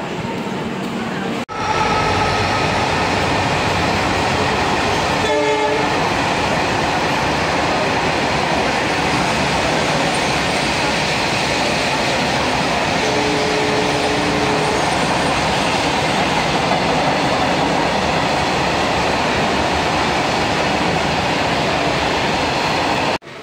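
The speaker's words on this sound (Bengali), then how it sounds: "এই যে ট্রেনটা চলে গেল।" A train rumbles past continuously and loudly on its rails at Bolpur station, steady rolling noise with brief clanks and a short squeal, sustained for over twenty seconds.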